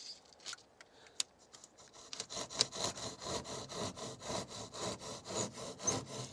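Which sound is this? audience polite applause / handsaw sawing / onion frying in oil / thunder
handsaw sawing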